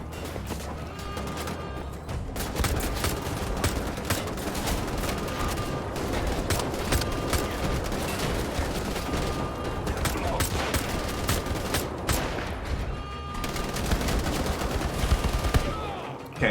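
Enemy gunfire in Wolfenstein: The Old Blood, dense sustained bursts of rapid shots and ringing impacts that run almost without a break, loud and close, with game voices barely audible underneath.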